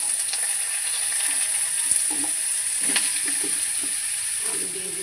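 Mango pieces frying in mustard oil give off a loud, close, continuous hiss and sizzle, with occasional stirring scrapes and no talking.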